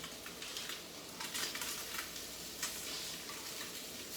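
Fish fries in olive oil in a pan, a soft, continuous crackling sizzle with occasional small pops, fairly quiet and close, with no speech.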